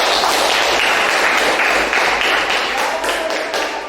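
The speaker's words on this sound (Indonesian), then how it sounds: "Tepuk tangan untuk kalian." A classroom of students applauds together, a steady burst of clapping that stays loud throughout and tapers slightly toward the end.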